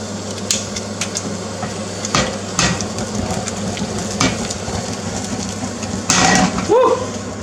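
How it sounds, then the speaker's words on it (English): Brandy set alight in a pan for crêpe Suzette gives a steady close sizzle, with a sudden louder whoosh of flame and crackle near the end. "put the brandy in the pan, and then you light the brandy, and then you flambe it"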